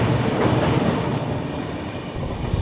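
A passenger train crosses the Subarnarekha river bridge near Tatanagar with a loud, continuous rolling rumble and faint clickety-clack of wheels, heard from on board and free of voices, easing slightly toward the end.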